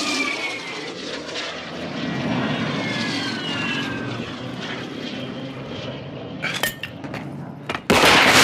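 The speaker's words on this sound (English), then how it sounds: "Be advised, UAV is exiting the AO." A UAV drone drones overhead in Warzone 2 with a steady propeller-engine hum and whine that holds for several seconds. Sharp gunshots break in near the end.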